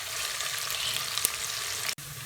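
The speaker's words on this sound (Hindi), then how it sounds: "इस तरीके से हम लोगों ने मसाले को भूनना है।" Spices sizzling in a couple of spoonfuls of hot ghee for sarson ka saag, a steady close crackle and hiss with a brief clatter near the end and no talking.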